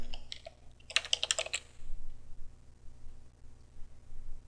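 An admin password is typed on a computer keyboard in a quick, close burst of light key clicks lasting about a second, followed by quiet room hum.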